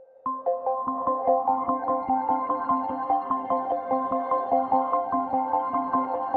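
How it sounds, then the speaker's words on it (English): Ambient synth textures built in the Reason rack, run through a reverse reverb effect: shimmering, bell-like tones repeat in a steady pulsing pattern, each note swelling and overlapping into a sustained, evenly loud wash with no talking. "And then lastly, I'm using the reverse reverb again"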